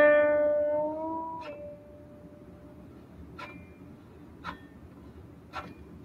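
A guqin string is plucked once, and the long note rings and wavers with nao vibrato as it slowly decays. Soft, faint tapping and rustling follow in the quiet room.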